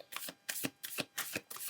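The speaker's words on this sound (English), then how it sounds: "Let's shuffle one more time." A deck of oracle cards shuffled by hand in five quick, crisp riffling bursts, close and quiet, with brief pauses between each pass and no talking.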